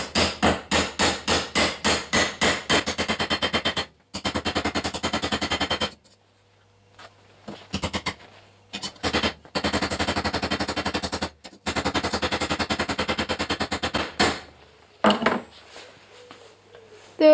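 Repeated ringing hammer blows on a spiked tomahawk's metal head resting on an anvil, fast regular strikes in bursts separated by short pauses, close and loud with no talk.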